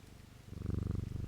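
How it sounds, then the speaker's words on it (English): A pet cat in the video game Strange Antiquities purrs close by, starting faint and swelling into a steady, rhythmic rumble with no talking. "beautiful pet kitty"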